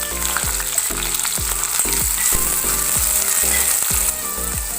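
Onions and green chillies fry in hot oil with a loud, steady sizzle, broken by a regular rhythm of stirring scrapes about every half second.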